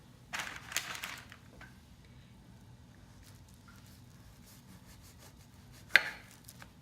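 A knife slices through log-shaped cranberry pistachio shortbread dough, giving soft, dull cuts in a few separate strokes and ending with one sharper thunk against the board.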